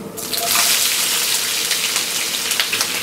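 One and a half cups of chopped onion hit hot oil with black pepper and a bay leaf, bursting into a loud crackling sizzle that stays steady with scattered sharp pops, close up.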